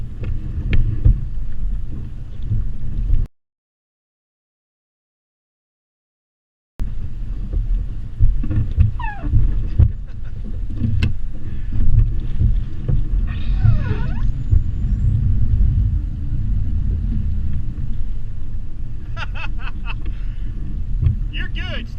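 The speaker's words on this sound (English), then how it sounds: "Damn wind is blowing insane" Strong crosswind buffets the microphone at a lake boat ramp during trailer loading, a constant rumbling roar broken by a brief dropout, with people talking over the gusts.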